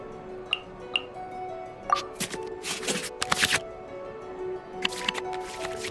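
Card shuffling and soft card-handling clicks in the Genshin Impact card game, as cards from the hand go back into the draw pile: a few isolated ticks, then brief bursts of riffling, with no speech.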